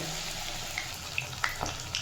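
Eggplant fritters fry in hot oil, giving a steady soft sizzle with a few small pops and crackles close by, fairly quiet overall.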